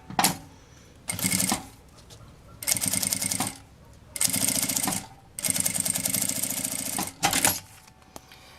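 A sewing machine stitches along the bottom edge of a plastic pouch in five or six close, loud bursts of rapid clatter, separated by short pauses.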